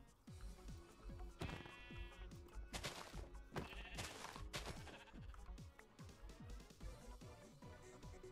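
Pink sheep bleat repeatedly in a video game, several cries overlapping in quick succession over music-like game sounds, loud and close throughout.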